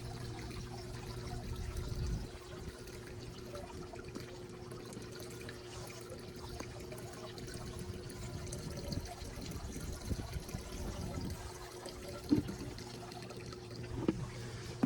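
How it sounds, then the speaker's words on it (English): Steady trickling of pool chemical poured slowly into pool water, continuous and fairly faint, with a low hum underneath and a couple of small splashes near the end. "So just like this, slowly, carefully pour it in."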